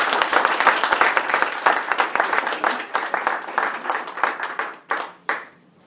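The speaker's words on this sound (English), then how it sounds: "Please give distinguished Toastmaster Jean Gamester a rapturous applause." An audience at a Toastmasters workshop breaks into applause for a speaker, a dense burst of many hands clapping that thins out toward the end, with a few last separate claps before it fades.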